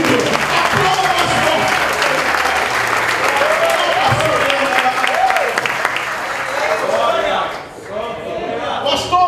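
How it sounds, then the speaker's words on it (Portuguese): Sustained applause from a congregation at a church youth worship service, loud and dense throughout, with voices rising over it near the end as it thins. "Você vai aplaudir Jesus? Aplauda mais um pouquinho."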